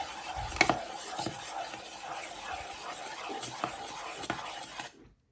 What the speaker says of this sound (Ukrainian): Трішечки перемішаємо з содою.